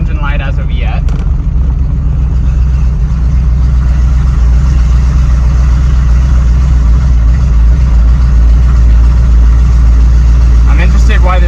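A car engine running under its own power for the first time after an emergency engine swap, loud steady low rumble throughout, with brief voices near the start and end.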